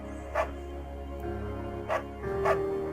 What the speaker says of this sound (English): Bucket's a good dog.